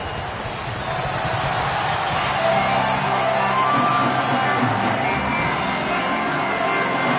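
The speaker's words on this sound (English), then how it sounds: "Can they get an upset on the road with this crowd noise, with this environment?" Stadium crowd noise from a college football video game, UAB at Mizzou, a dense continuous roar of cheering and shouting that swells slightly and holds steady throughout.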